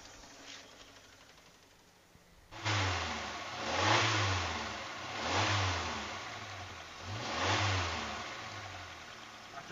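A 1986 Suzuki Carry pickup engine idles quietly, then revs hard three times in rising and falling surges, close and loud, with no talking.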